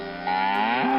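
A cow in a cattle shed gives one loud, close moo that rises and swells over about a second, heard alone.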